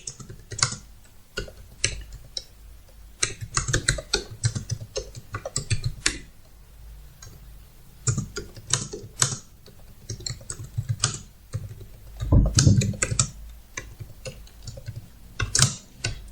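Keys clatter on a computer keyboard in irregular bursts of rapid taps separated by short pauses, close and fairly quiet throughout.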